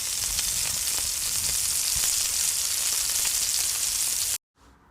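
Shrimp fry in a pan for a creamy pasta dish, giving a loud, steady sizzle that fills the scene with dense crackling, then cuts off abruptly into near silence; no one talks.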